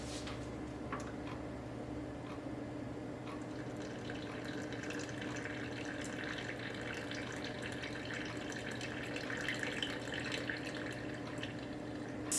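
Warm water runs steadily into a container for a sourdough starter, a continuous close trickle and splash that holds even for about twelve seconds, with no voices over it.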